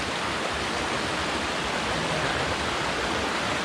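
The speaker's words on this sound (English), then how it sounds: "And it's as far up as you can see, there's little waterfalls." Small mountain waterfalls at a stream crossing on a mossy trail, a steady, full broadband rush of falling water that stays constant and close throughout, with no voices.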